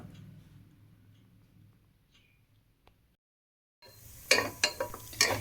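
Onion and carrot sautéing in hot butter, a quiet pause and then a bright crackling sizzle with a few sharp stirring clicks and spatters toward the end, no voices.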